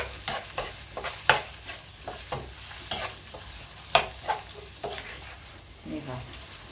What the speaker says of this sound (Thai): เนี่ยเรามาผัดเจียวกระเทียมให้หอมเหลืองแล้วก็เอาหมูแดดเดียวมาลงผัดเลยค่ะ